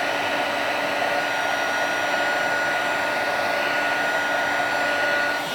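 A heat tool blows hot air steadily and loudly over stamped cardstock for emboss-resist heat embossing, a constant broadband whoosh with no break and no voices.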